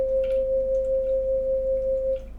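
A Quietbliss electronic Tibetan singing bowl sounds one pure, steady tone that holds evenly for about two seconds, then cuts off, with nothing else around it.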